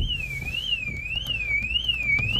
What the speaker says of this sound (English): It's got some sort of alarm system built into it.